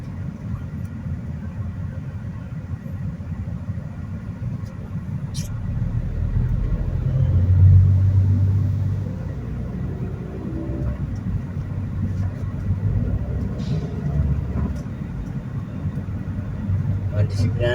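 Heavy trucks and other traffic rumble steadily along a Riyadh freeway, a continuous low road roar that swells briefly mid-way, with someone talking over it throughout.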